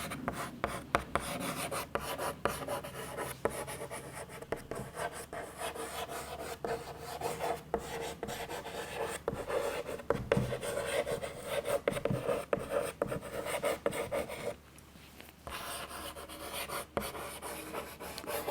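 Writing on a board during a Class VII English lesson comes through as dense, continuous scratchy strokes and rubs, close and steady, briefly pausing near the end, with no talking.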